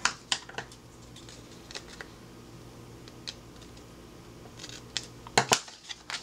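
Scissors make a few short, crisp snips while trimming paper for a planner decoration, with soft handling noises between the cuts in a quiet room.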